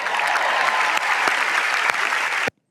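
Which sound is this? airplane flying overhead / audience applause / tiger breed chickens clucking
audience applause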